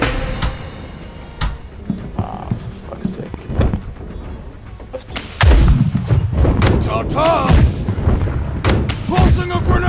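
Ship cannons booming in the naval battle game Blackwake, heavy thuds and blasts firing in irregular volleys that grow denser and louder midway, with players talking over the gunfire.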